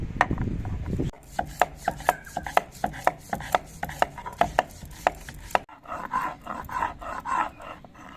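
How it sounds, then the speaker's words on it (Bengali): Green chillies, mustard seeds and poppy seeds with a pinch of salt being ground into a fine paste in a kitchen, heard as a steady run of close, rhythmic pounding and scraping strokes, then a rougher grinding rub, with no talk. "সর্ষে পোস্ত মিহি করে বেটে নেওয়া হয়ে গেছে"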